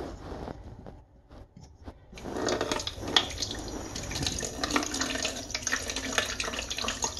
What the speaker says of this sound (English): Let me turn the water on, see how fast the water flows.